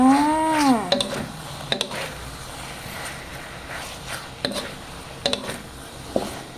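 Glass noodles with egg and pork stir-fried in a pan, a soft steady sizzle broken by sharp scraping clacks of a utensil at irregular intervals, close by, with a brief meow-like squeal at the start.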